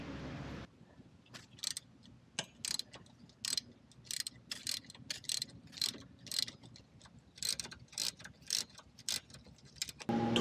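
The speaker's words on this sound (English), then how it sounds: "Torquing it all the way." Bolts on the foot controls of a Harley-Davidson Sportster Iron 883 being tightened with a ratchet, giving bursts of close, sharp clicking in irregular runs across the whole stretch, with no talking.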